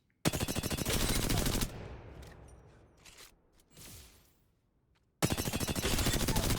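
Rapid automatic fire from an R-301 rifle in Apex Legends, two loud sustained bursts of closely spaced shots separated by a quieter stretch of scattered in-game sounds.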